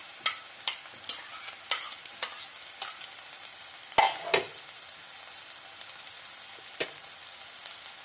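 Crushed ginger, garlic, green chilies and curry leaves sautéing in a pan: a low, steady sizzle with repeated sharp spatula clacks, close and alone.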